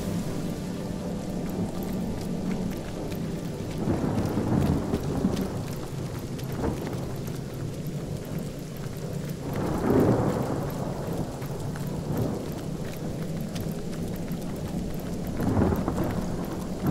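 Heavy rain pours steadily in the Divinity Original Sin video game while rolls of thunder swell and rumble several times, dense and loud throughout.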